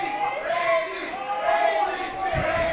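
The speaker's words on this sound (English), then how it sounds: "listen to this, the crowd behind Randy here" A wrestling crowd at a casino rumble event chants and roars continuously from the arena, a loud, sustained wash of many voices with a swelling rhythmic cadence and no close talk over it.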